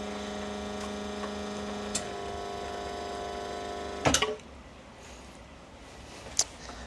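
An espresso machine runs with a steady, close electric pump hum that cuts off partway through, leaving a quieter background with a few light clicks.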